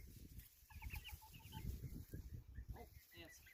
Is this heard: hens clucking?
yes